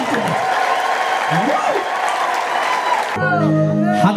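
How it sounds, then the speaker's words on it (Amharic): Worshippers at a prophetic church service clap in a dense, continuous burst, and near the end high, warbling ululation rises over the applause. "ለጌታ እልልታ ጭብጨባ"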